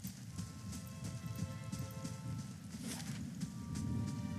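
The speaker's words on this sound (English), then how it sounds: "Now back outside, it's raining again" Steady rain in the Pillars of Eternity video game, a dense continuous patter of drops with a soft low rumble underneath, no voices.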